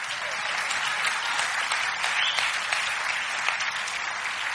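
Church congregation clapping together during a sermon, a dense, sustained wash of applause from many hands, steady and fairly loud throughout, with no speech.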